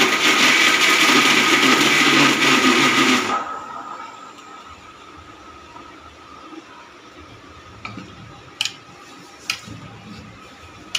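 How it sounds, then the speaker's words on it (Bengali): A mixer grinder jar whirs loudly while grinding chicken for about three seconds, then cuts off, leaving quiet room tone broken by a few sharp clicks and knocks. "এটাকে আমি মিক্সি জারে গ্রাইন্ড করে নেব"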